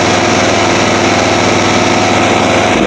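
A Toro TimeCutter 1642z riding lawn mower engine runs loud and close with a little too much choke, a continuous rough idling drone with a steady throbbing pulse.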